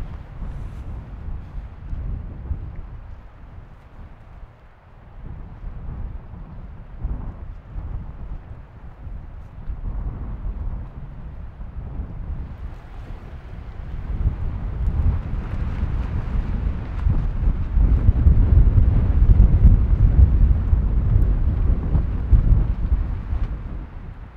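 Strong wind sweeping through the Finnish Vätsäri wilderness, a continuous low roar buffeting the microphone that builds steadily louder and gustier toward the end, with no voices.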